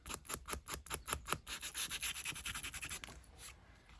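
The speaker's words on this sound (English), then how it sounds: "And this stuff, it sands so easily." Quick rhythmic sanding strokes rasp across a handmade junk journal element, close and fairly quiet, the back-and-forth rubbing slowing slightly before fading near the end.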